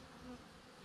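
A faint, steady buzz of yellow jackets drones briefly at a distance, low and continuous.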